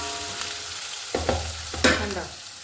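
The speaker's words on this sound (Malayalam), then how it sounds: "അമ്മ ഏത് വെളിച്ചെണ്ണയിലാണ് ചിക്കൻ വറുക്കുന്നത്?" Chicken fries in coconut oil with a steady sizzle, while a utensil stirs and scrapes the pan in a few sharp clatters near the end.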